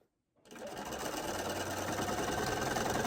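A sewing machine stitches a quilt with fleece backing, starting after a brief silence and then running in a steady, continuous close-up whir with no talking.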